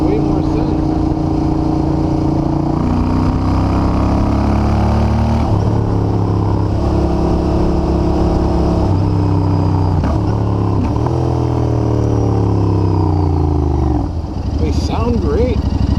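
A 2021 Royal Enfield Continental GT motorcycle with Emgo slip-on exhausts, its engine thumping steadily close by and rising and falling through several revs and gear changes.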